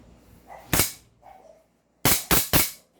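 A toy 1911 pistol fires four sharp, cracking cap-gun-like shots up close: one single report, a pause, then three in quick succession, with faint handling clicks before them.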